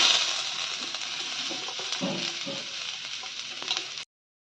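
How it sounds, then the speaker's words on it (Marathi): Onion sizzling in a little oil on a tawa, a close, steady frying hiss with faint clinks and scraping of stirring, no talk, cutting off abruptly near the end. "त्यावर थोडंसं तेल टाकून घेते मी थोडंसं तेल टाकून घेतलं की कांदा आधी भाजून घ्यायचा आपल्याला"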